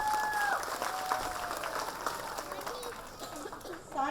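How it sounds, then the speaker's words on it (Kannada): An audience applauds children at a school annual day function, a steady spread of clapping running throughout while tonal music and a faint voice sit underneath. "ಸೊ ಮಕ್ಕಳಿಗೆ ಚಪ್ಪಾಳೆ ಚಪ್ಪಾಳೆ ಚಪ್ಪಾಳೆ ಜೋರಾಗಿ"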